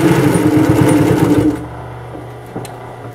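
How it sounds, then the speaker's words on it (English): A Singer 111W151 needle-feed industrial sewing machine stitches through thick layers of denim, giving a loud rhythmic mechanical chatter for about a second and a half. It then stops, leaving only a faint hum and a small clunk. "As you can see, this machine will easily sew 8 layers of denim"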